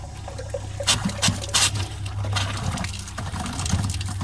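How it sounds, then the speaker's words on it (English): Water runs into an RV water tank as a steady low trickling fill, broken by a few brief splashy gushes near the start, with no talk. "I should probably put a little bit of water in my tank"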